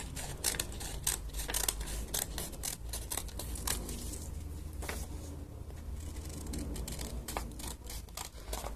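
Scissors snipping a paper mask, a quick run of crisp close cuts with short pauses between bursts, fairly quiet and alone.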